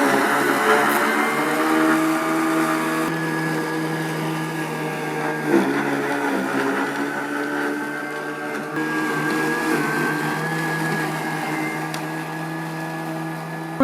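A Lymow robotic lawn mower's motor drones steadily while cutting dense grass low, a constant close whirring hum with slight dips in pitch as it works.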